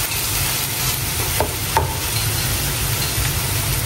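Sisig being stirred together with plenty of mayonnaise in a hot pan, a steady sizzle and frying hiss with a couple of brief scraping clicks from the utensil, close and continuous, no talking.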